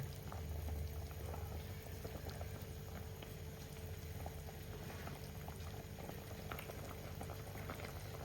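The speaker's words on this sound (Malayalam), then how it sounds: "കറി തിളച്ചിട്ടുണ്ട് നല്ലതുപോലെ. എല്ലായിടം തിളച്ചിട്ടുണ്ട്" Sardine curry boils in a pot with a constant low bubbling and popping, steady and fairly quiet with no voices.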